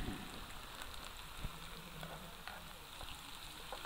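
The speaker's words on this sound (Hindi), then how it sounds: "प्याज का तड़का साला रुला मुझे रहा" Onions sizzle and crackle quietly in hot oil for tempering, a soft, steady frying hiss with small pops.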